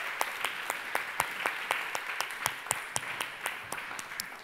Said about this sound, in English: And please join Ada here on the stage with a huge applause.